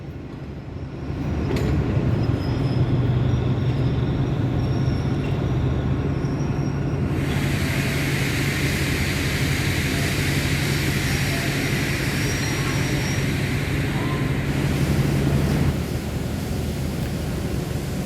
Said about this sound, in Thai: ขบวนรถชานเมืองที่ 317 กรุงเทพลบบุรีก็เข้าเทียบนะฮะ ริ้วขบวนก็เป็นดีเซลรางสามตู้